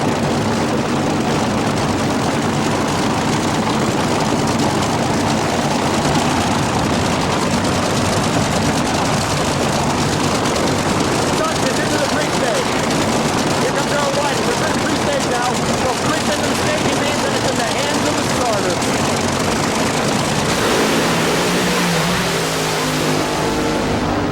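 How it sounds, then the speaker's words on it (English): Top fuel dragsters launch off the starting line at the 1987 Bakersfield Fuel and Gas Championships. Their thunderous roar is continuous and saturating for over twenty seconds, while an announcer talks beneath it. "The semi-final round is top fuel dragster."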